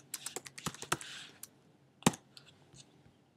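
Close-up computer keyboard typing while entering release notes, a quick burst of clicking keystrokes followed by a pause and a few scattered taps, no voices.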